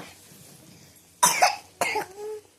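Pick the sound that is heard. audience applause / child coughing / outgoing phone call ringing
child coughing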